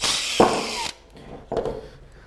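Power drill whirring as it drives screws into pallet wood for a smokehouse build, two short bursts with a pause between, close and loud, no talking.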